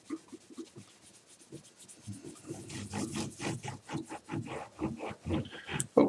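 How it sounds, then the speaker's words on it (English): A cloth rubs excess glue off the wooden bridge of a classical guitar, giving quiet, close scratchy strokes that grow quicker and stronger toward the end. "And then I wipe it clean. And I wipe it real well."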